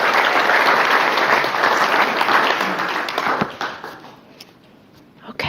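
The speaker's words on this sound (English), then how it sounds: "So one more round of applause for Kathy and Tanya." Audience at a guide dog school graduation ceremony claps in a full round of applause that holds steady, then fades out over the final seconds, leaving a few scattered claps and a quieter room.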